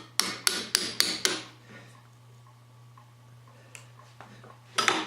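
A hammer strikes an angled, slightly worn chisel in five quick sharp blows, then a pause with a low steady hum underneath, then a few lighter taps and a final cluster of hits, all close and loud.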